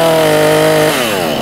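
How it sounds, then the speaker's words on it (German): Close, loud saw cutting into old barn wood during a barn demolition: a steady, harsh motor whine that drops in pitch as the blade bites, heard alone. "wir sägen jetzt die drei an, lassen die zwei da vorne stehen"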